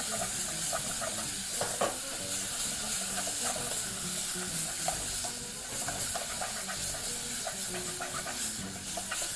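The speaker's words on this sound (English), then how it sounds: "Proceed to mix everything together." A tomato and onion mixture is stirred in a hot cooking pot, a steady loud sizzle with scraping spoon strokes and occasional sharper clatters throughout.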